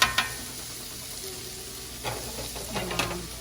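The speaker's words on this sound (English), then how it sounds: "Once you stir it once, let it cook, then start to flip it." Fried rice sizzles in a pan with a constant crackling hiss, broken by a sharp knock at the start and several rustling stirs and scrapes in the second half.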